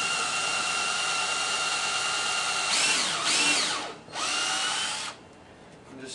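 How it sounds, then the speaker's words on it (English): A power drill fitted with a 1/8 inch bit bores screw holes while a metal DDR dance pad is being built. It whines steadily and loud at close range, with the pitch dipping and rising as the bit bites, then drops off at the end. "You got a 1/8 inch drill bit on here,"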